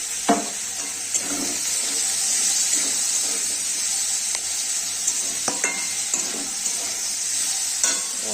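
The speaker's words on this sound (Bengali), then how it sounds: "হলুদ দিয়ে পেঁয়াজ আলুটাকে আমি ভেজে নেব" Potato, onion and tomato pieces fry with turmeric in a pan, giving a steady oily sizzle and hiss broken by repeated scrapes and clacks of a spatula stirring.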